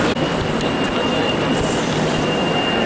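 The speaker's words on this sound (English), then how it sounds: "So here's my train to Venice." Italian passenger train bound for Venice at a station, a steady broadband rumble and hiss of rolling stock with a faint high tonal whine throughout.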